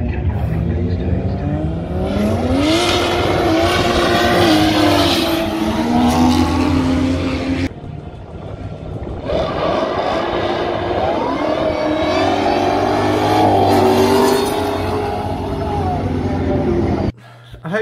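Roll racing cars at Powercruise, engines roaring loudly as they accelerate through rising gear pulls, with a brief drop around the middle before another hard run, steady and close throughout.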